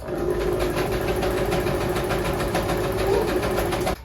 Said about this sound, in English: sewing the edge all the way around the edge